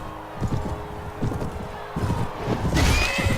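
A horse whinnies in the Mount & Blade: Warband Floris mod, with clip-clop hooves and battle noise mixed in over a few seconds.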